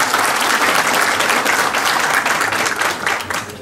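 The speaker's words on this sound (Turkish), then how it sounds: "Başkanım alkıştır." An audience at a general assembly claps continuously, a dense, steady burst of applause that fills the room and fades slightly toward the end.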